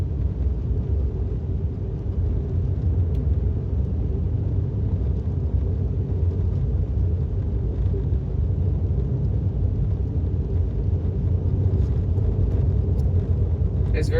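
A 2018 Tesla Model S 75D on Full Self-Driving rolls along a dirt road near Winnemucca, giving a constant low rumble of tire and road noise inside the cabin, with no talking.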